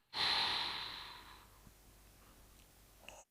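A single long, breathy exhale during a back-stretching exercise starts strong and close, then slowly fades away to near silence.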